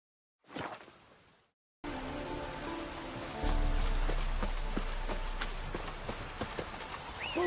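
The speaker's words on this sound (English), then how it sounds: "It just rains and rains." Steady rain falls on surfaces in The Witcher 3: Wild Hunt, a constant hiss with scattered drop impacts. Hoof clip-clops from a horse run beneath it, and a deeper rumble swells partway through.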